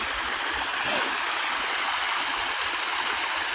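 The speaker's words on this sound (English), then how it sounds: "I'm crossing my favorite little creek. Nice little creek." A small creek flows steadily across a woodland crossing, its broadband rush of water close and continuous for the whole stretch with no voices.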